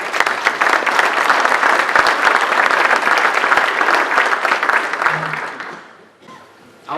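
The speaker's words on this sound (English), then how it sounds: "We need to applaud." Audience applause at a chamber of commerce morning gathering, dense and sustained clapping for about five seconds that fades out quickly, followed by a brief voice.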